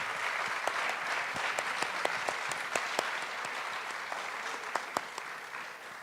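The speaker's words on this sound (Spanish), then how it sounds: "Un aplauso para Patricia Engel," An audience at a talk with author Patricia Engel applauds steadily, dense continuous clapping of a moderate crowd heard up close and without any voices.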